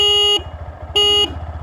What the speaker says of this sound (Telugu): హార్న్ విన్నారు కదా, హార్న్ సౌండ్ కూడా పర్వాలేదు.